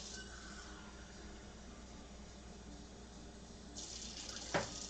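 Tap water runs quietly in a kitchen sink, a soft steady hiss that grows brighter toward the end as it fills a cup.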